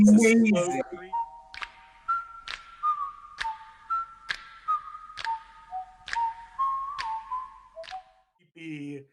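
Someone whistles a short melodic tune, a series of clear rising and falling notes with brief pauses between phrases, close and fairly loud.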